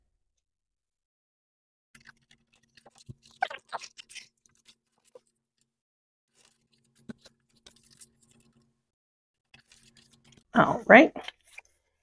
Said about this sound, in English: And since we have our trimmer out, let's go ahead and cut our pattern paper.